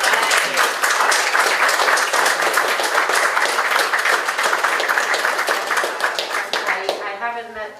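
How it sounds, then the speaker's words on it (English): An audience at an alumni homecoming exhibition breaks into loud, sustained clapping that rolls on for about seven seconds and then tapers off as a voice comes in at the end. "a round of applause for these guys"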